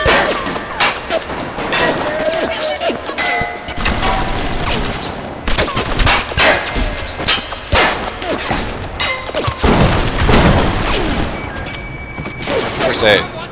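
Gunfire trades back and forth in Bioshock: loud bursts of shots, crashes and impacts come in irregular clusters across the whole stretch, with speech mixed in among the blasts.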